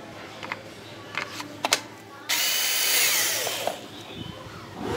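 Rockwell cordless drill/screwdriver with a modified four-cell battery pack, a short whirring run lasting about two seconds amid light handling clicks, fairly close.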